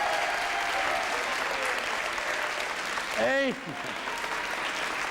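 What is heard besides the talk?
audience applause at a show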